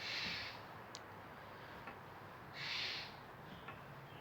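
A bird hooting in a video game, two soft breathy hoots separated by a pause, with faint ticks in between over a quiet low background.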